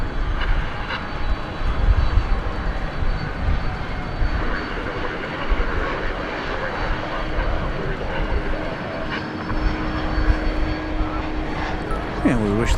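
A plane departs DFW Airport at night, its jet engine roar steady and broad throughout, heard from a spotting location with a voice talking over it.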